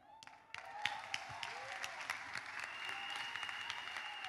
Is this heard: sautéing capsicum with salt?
no